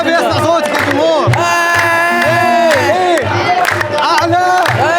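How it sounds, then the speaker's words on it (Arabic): Football supporters roar and cheer loudly in a stadium, a dense sustained crowd sound with whoops, rhythmic drum beats and chanting voices close by. "ابي اسمع صوتك الجمهور"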